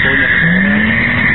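A supermotard motorcycle skids, giving a loud steady tire squeal that holds for about a second and a half, close and sustained.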